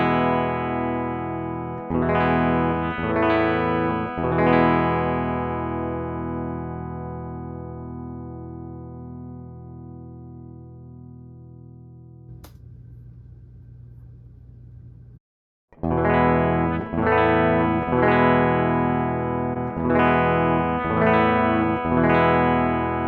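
Electric guitar through an EnovaNXT cable and effects, ringing sustained chords that slowly fade, a brief burst of noisy buzz, then fresh strummed chords returning loud and full.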